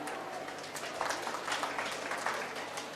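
An audience at a school annual day bursts into applause, a soft, diffuse patter of many hands clapping at a distance, fairly faint and steady for a few seconds.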